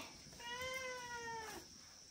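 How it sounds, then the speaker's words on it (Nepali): A cat gives a single drawn-out meow, faint and somewhat distant, against quiet background noise. "बिरालो पनि छ"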